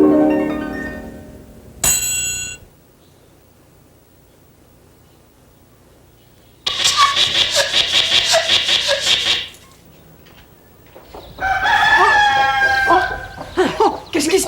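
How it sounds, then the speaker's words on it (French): Farmyard fowl sounds alone: a rooster crows loud and close, then after a quiet gap hens cluck and chicks cheep in a dense burst, followed by another crow. "Le poussin de la poule et le chant du coq."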